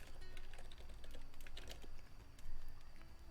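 Typing on a computer keyboard, a quick irregular run of light clicking keystrokes, close and fairly quiet, with a faint steady hum beneath.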